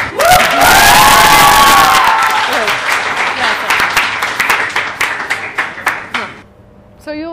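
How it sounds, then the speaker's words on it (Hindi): A studio crowd at a Hindi talk show with a rapper and actress Warina Hussain bursts into loud applause with cheers and whoops, then settles into scattered individual claps that trail off before a short quiet. "तालियां।"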